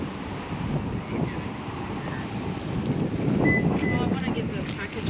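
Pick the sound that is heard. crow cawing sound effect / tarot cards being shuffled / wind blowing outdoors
wind blowing outdoors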